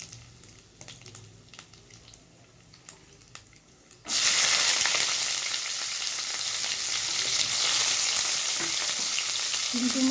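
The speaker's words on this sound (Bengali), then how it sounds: "আর দিয়ে দিচ্ছি লবঙ্গ, এলাচ। দিয়ে সামান্য একটু ভেজে নিতে হবে।" Cloves and cardamom dropped into hot oil for masala paneer: after about four seconds of quiet kitchen clatter and small knocks, a sudden loud sizzle erupts and continues as a steady close hiss to the end.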